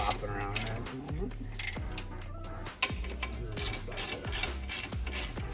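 A ratchet wrench clicks steadily as it works on the caliper bracket bolts of a 2018 Ford F-250, with close, repeated ratcheting strokes and metallic creaks.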